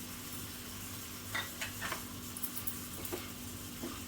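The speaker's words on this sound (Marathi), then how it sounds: "चांगलं मिक्स करून घेते" Yam pieces stirred in a pan with coriander powder on top, a soft continuous sizzle under a few light scraping strokes of a spoon spaced through the stretch, close and fairly quiet.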